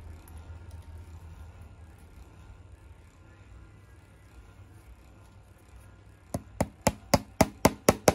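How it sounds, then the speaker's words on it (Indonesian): Nails hammered into the wooden frame of a Kentong Suro Ganong mask: after quiet room noise, about seven sharp, evenly spaced hammer strikes ring out close and loud. "baru dipaku."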